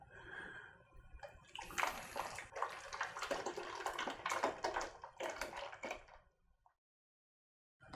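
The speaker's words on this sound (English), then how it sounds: "Grab an empty 2-liter bottle, a funnel, and let's pour this mixture right in" Pureed strawberry mixture pours through a funnel into an empty 2-liter bottle, giving a wet, gurgling splash that runs for several seconds before stopping, heard close and fairly quiet.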